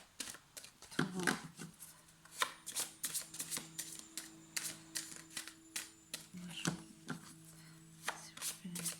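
Tarot cards shuffled by hand in quick, irregular bursts of crisp riffles and snaps across the whole stretch, up close, over a low steady hum with faint voice-like murmuring.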